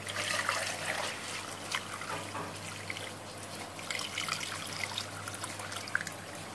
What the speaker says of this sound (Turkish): Kaynayan şerbetimizi güzelce süzüyoruz.